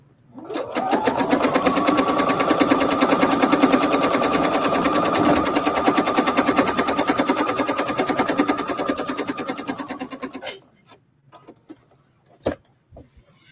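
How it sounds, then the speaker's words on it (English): A sewing machine stitches a jacket sleeve made from upcycled denim, running in one fast, steady mechanical rattle for about ten seconds before stopping, followed by a few scattered clicks and handling taps. "I'm going to stitch the inside of the sleeve"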